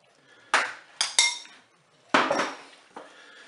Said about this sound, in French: Voilà, moi je mélange.